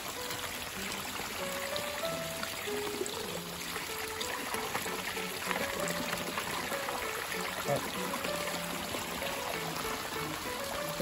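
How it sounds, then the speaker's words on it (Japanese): Steady broadband rush of running water, like a cold shower spraying continuously at a hot spring bath, with faint voices murmuring underneath. "シャワー水いただきました。"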